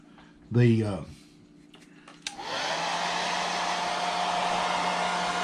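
A hair dryer switches on after a brief spoken word and runs with a steady close whine and airy rush, drying paint on a hand-carved wooden face.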